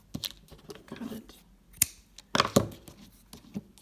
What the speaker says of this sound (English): Now I take the yarn from the beginning, cut it